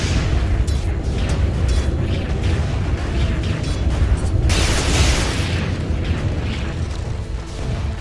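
A tower being destroyed in Dota 2, a loud rumbling crash of explosions and crumbling debris layered over continuous battle noise, with a brighter burst swelling about halfway through.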